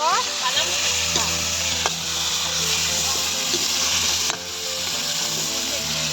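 Fish sizzles steadily in hot oil in a pan during an outdoor family picnic. The dense, continuous frying hiss runs close and loud from start to finish, with occasional stirring clinks and a few faint voices beneath.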